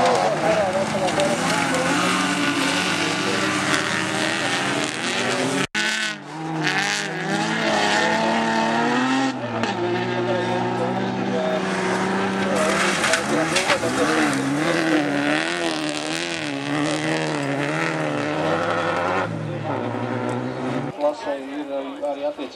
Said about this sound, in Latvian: uzmanību startam autokrosa klases 5 dalībnieki aizbrauc no starta